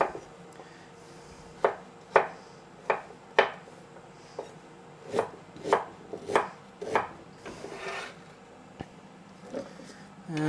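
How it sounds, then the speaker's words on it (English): A knife roughly chops vegetables for soup on a board, a dozen or so uneven, sharp close thuds spread over several seconds, with quiet gaps between strokes. "I'm just giving a rough chop"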